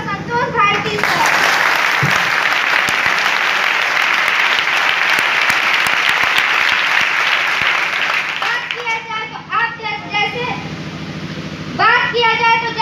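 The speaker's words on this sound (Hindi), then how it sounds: "आप लोग जोरदार तालियों के साथ उनका स्वागत करें" An audience at a company event applauds to welcome a speaker, giving sustained loud clapping for several seconds. It then fades into speech, and clapping briefly swells again near the end.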